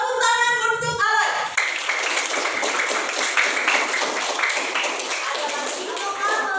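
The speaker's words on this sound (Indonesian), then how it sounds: "Tepuk tangan untuk Alay." Hands clap in a classroom as pupils applaud a classmate, a dense, steady patter of claps filling the room after a brief spoken phrase at the start.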